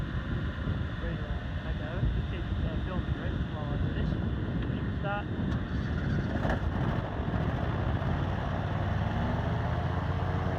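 The thrust engine of a small electric hovercraft, running at about 700 watts, gives a steady dense whirring roar with buffeting wind noise, loud and continuous with a voice talking over it.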